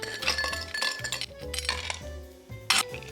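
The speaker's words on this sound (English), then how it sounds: "We're gonna add ice into this glass." Glassy clinks and clatter as ice drops into a cocktail glass, a few bright hits with a sharper louder clink near the end, over faint background music.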